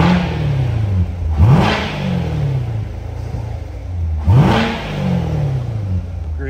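A 2019 Chevrolet Corvette Grand Sport Coupe engine, heard from outside with the car parked and running, revs twice in strong rising sweeps that settle back to a deep, rumbling idle, loud and close with no talking.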